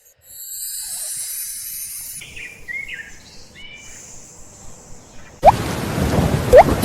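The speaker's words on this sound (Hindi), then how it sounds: "सुबह से बारिश हो रही है।" Rain falling on a leaky house in a downpour that has lasted since morning, a steady wash of drops with brief bird calls and a few sharp drip or splash sounds near the end, no talk.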